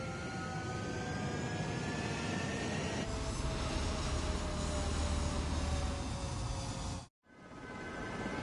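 Fighter jets in the Ace Combat game spool up for takeoff, a loud sustained engine roar with rising whine tones that swells, cuts out briefly near the end and then resumes.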